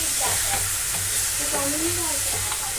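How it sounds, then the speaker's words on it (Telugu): Carrot halwa with almonds being stirred in a pan, a steady soft frying hiss with faint scraping throughout, fairly close, with a few brief tonal background sounds and no speech. "బాదం వేసుకొని కలుపుకుందాం."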